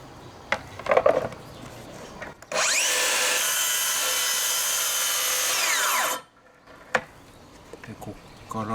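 A Makita SP001GZ 40Vmax cordless 165mm plunge circular saw cuts square across wood, one loud steady whine lasting about three and a half seconds, with brief voices before and after.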